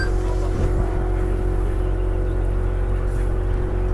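A Schumacher Cougar LD2 RC car racing at an outdoor championship track, its electric motor whining steadily from fairly close, with a constant buzzing drone and no voices.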